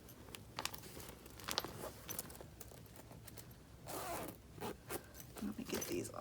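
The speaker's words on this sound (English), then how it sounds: "Let's see, how does this zip? All right, it's got a double zipper." A double zipper on an organizer bag is drawn in a series of short rasping pulls, close by and fairly quiet, with some rustling and soft handling noises between strokes.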